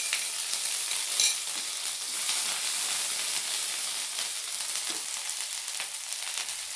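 Grated ginger goes into brinjal frying in a pan, giving a steady, bright, airy hiss of sizzling oil with a brief sharper crackle early on.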